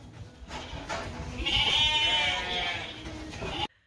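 A sheep lets out a long, wavering bleat close by in a paddock at a shearing event, over a background of wind and handling noise, then it cuts off abruptly.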